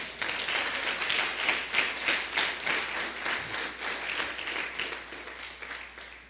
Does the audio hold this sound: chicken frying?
no